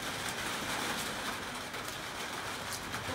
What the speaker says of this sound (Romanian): Nu știu, stăm pe acoperiș și plouă.